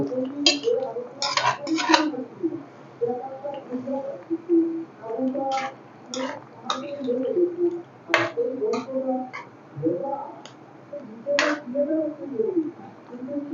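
Braised chicken being tipped into a boiling curry of pointed gourd and jackfruit seeds in a pot, with clinks, scrapes and soft splats of metal utensils against the pot throughout, close and moderately loud over a low bubbling background.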